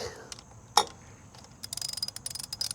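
A 12mm ratchet snugs the oil drain bolt back into a 2025 Honda Grom, giving a burst of quick, close clicking after a sharp knock and some softer handling noises.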